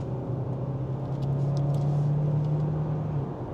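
A 2025 Hyundai Santa Fe Hybrid in sport mode, heard from inside the cabin as a steady, loud engine drone with a low humming tone and road rumble, no talk.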